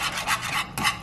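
Butter, garlic and pepper whisked together in a bowl, a quick series of raspy scraping strokes close up, repeating in a steady back-and-forth rhythm.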